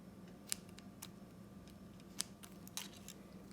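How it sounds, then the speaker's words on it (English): Scissors snip thread while making a fabric bud rose from stocking cloth, giving a few sharp, quiet clicks spread apart over a low steady hum. Nobody speaks. "Cut the thread."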